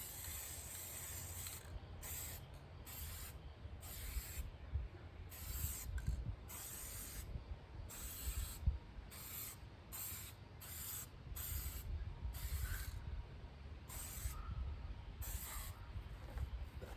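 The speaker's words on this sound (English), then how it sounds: "So I'm gonna spray this on." Short bursts of aerosol spraying a coating onto window glass, repeated hisses with brief pauses between them, close and fairly quiet, no voices.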